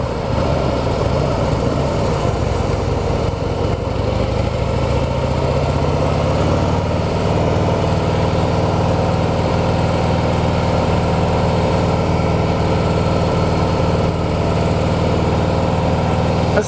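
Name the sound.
Harley-Davidson Heritage motorcycle engine running in third gear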